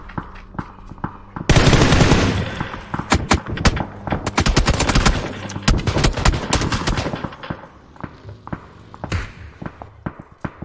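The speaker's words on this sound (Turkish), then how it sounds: "millet birbirini vuruyor bizim takımdan ya" Heavy automatic gunfire in a large 50 vs 50 PUBG battle, loud and dense with overlapping bursts and rapid shots for several seconds, then thinning into scattered shots.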